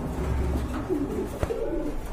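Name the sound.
Danish pigeons cooing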